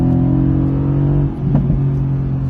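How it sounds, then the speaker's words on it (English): A Porsche Panamera revs up close by with a loud, steady low rumble and a brief surge in the middle. "Porsche Panamera in front of me."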